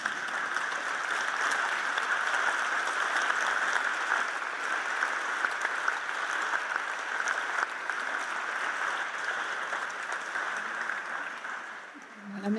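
Audience applause after a round-table discussion, a long, even wash of many hands clapping that holds steady for over ten seconds before thinning at the end.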